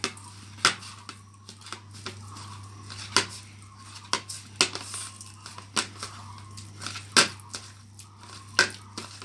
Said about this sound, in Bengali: এখন সব কিছু আমি ভালো করে আরও মিশিয়ে নেব।